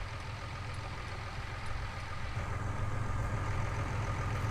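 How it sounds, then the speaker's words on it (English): A small Case tractor idling in a farming simulator game, a steady low engine rumble with a mechanical throb that grows slightly louder partway through. "hopefully this little case tractor can pull this."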